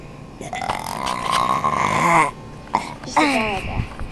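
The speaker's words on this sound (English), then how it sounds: "That's a big burp." A loud, long, croaking burp rolls out for nearly two seconds, then a shorter second belch follows, both close and forceful with faint background noise.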